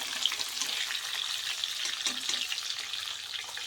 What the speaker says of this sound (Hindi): मछली का माथा लाल लाल करके भाजा कर लिया